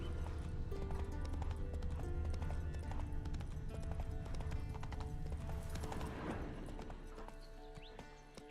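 Steady clip-clopping hooves of a horse in The Witcher video game, close and continuous, with a faint whinny-like sound partway through and a gradual fade near the end.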